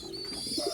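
Young pigeons in a loft give a couple of soft, low coos toward the end, close by, over a steady background hiss with no talking.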